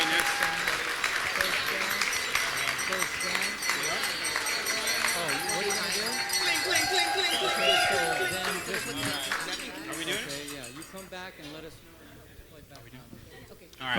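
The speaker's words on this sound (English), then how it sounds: "let's give them a big, big round of applause" Wedding guests applaud the newlyweds, a broad patter of clapping under a voice and background music, thinning out and fading toward the end.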